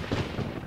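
A brief deep rumble of thunder in The Witcher 3: Wild Hunt, low and booming like distant thunder, rolling for under a second with no voices.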